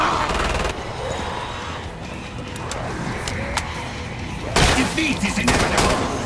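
Gunfire in the video game Killing Floor 2 played as a Commando, loud dense bursts of rapid shots crackling almost continuously over game noise and voiced lines, growing heavier near the end.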